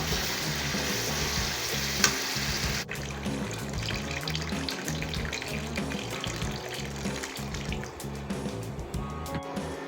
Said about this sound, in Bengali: এবার পানি দিয়ে দিয়েছি